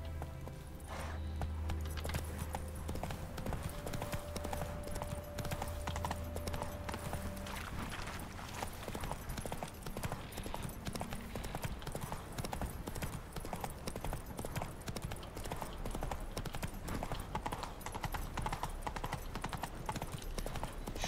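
Roach the horse gallops in The Witcher 3 video game, with steady rapid hoofbeats close and continuous throughout, over a low music bed and with no talking.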